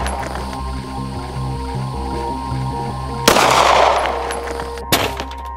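A gunshot fired at car armor plates made from dollar-store items: one sharp, loud crack with a short rough tail, then a second, lighter impact over a steady mechanical hum.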